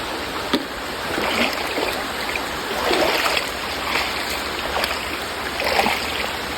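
A waterfall in the countryside makes a steady rushing wash of water, moderately close and continuous, with no one talking over it.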